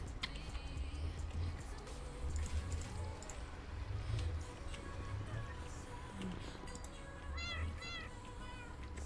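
Several cats meow in the video game Minecraft, with repeated short high mews scattered over a busy low background, growing clearer and more frequent near the end.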